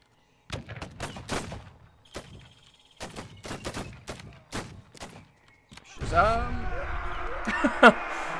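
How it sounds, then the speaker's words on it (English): Cannons fire in The Biscuit Bandwagon video game, a sequence of sharp, separate booming shots spaced irregularly, followed by a denser stretch of continuous explosive rumble and noise. "You can man the cannons yourself."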